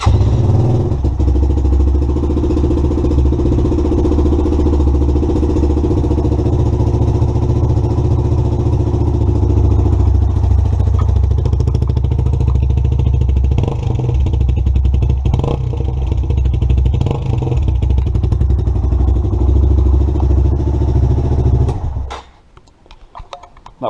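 A Lexmoto motorcycle engine with starting and idling issues runs loud and close, idling steadily with a few revs before it cuts off near the end.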